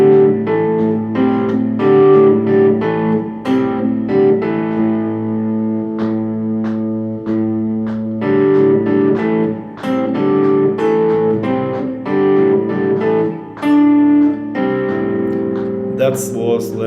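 A guitar picks a steady fingerstyle pattern from a song, with the second and fourth bass notes dropped. Sustained ringing notes and a thick, slightly distorted tone with echo continue unbroken, with no voices.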